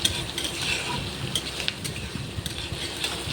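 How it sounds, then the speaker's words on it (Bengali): Onion frying with chow mein noodles in a small wok, with a steady oily sizzle and soft scraping of stirring running throughout, close and continuous. "নাড়তে নাড়তে পেঁয়াজটা হালকা ব্রাউন কালার চলে এসছে।"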